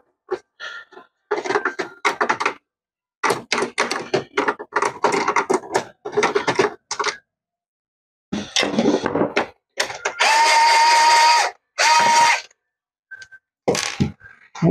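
Screws being worked loose from the casing of a Brother DCP-T310 inkjet printer with a screwdriver, giving bursts of scraping, clicking and rattling contact sounds in irregular clusters, close up with pauses between, and no talk.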